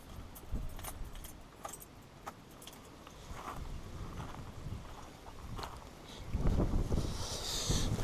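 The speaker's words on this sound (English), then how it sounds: "But I put ignition on." Keys jangle and clink close by as a Ford Transit van's ignition is switched on, light metallic rattles scattered over a quiet cabin hum.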